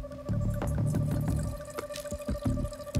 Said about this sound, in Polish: W takim razie nalejmy wina do karafek.